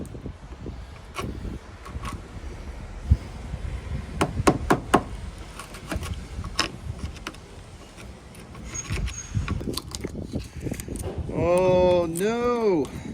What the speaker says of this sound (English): I'm going to have to tap all these through and fish them out with a magnet